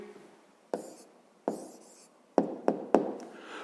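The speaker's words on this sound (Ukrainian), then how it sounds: "Записуємо тоді відповідь" A pen writes out a maths answer on paper in short strokes, five distinct scratchy bursts with quiet gaps between them, close and clear with no talking.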